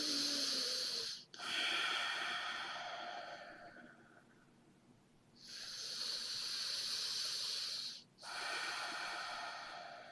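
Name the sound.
deep breaths during a face yoga neck exercise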